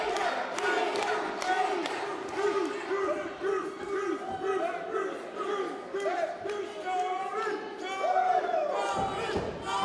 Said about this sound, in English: the crowd's showing their love for the Cream Street Mafia as they chant Baker